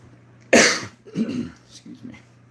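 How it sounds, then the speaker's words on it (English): A single throat clearing, close and fairly loud, bursts out and then tapers into a few softer rasping follow-ups, heard alone over a faint steady hum. "Clear your throat."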